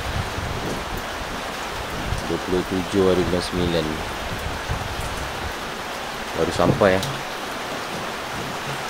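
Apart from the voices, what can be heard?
rain falling outdoors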